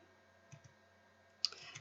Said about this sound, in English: So I'm just right-clicking around my shape.